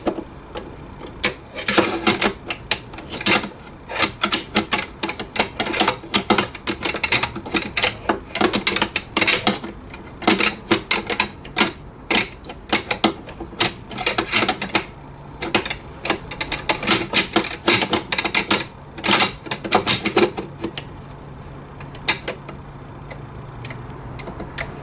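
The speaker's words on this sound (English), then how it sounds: "So I need to stick this bolt back in there." Metallic clicks and rattles from handling the bolt of a Mak 90 rifle, sliding and seating it back into the receiver; a dense, irregular run of close, sharp ticks and scrapes with no talk.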